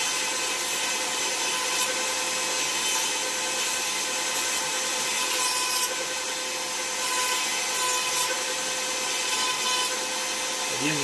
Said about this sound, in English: I use this cutting wheel like a sanding bit.